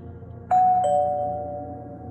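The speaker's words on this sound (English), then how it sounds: "We ring the doorbell" A single two-tone electronic doorbell chime rings out clearly, the second tone following quickly and fading slowly into silence.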